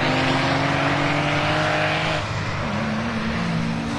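Porsche race cars at Rockingham roar past close by, engines loud and sustained, with a shift in pitch midway as one car passes and another follows.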